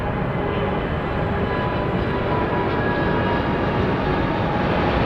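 Jet airliner departing Heathrow Airport, a steady, loud broadband engine roar that holds constant throughout with no voices.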